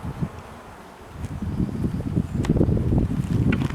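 Honey bees buzz around an open urban beehive, a close, rising drone mixed with wind rumble that grows louder and denser over a few seconds, with no voices.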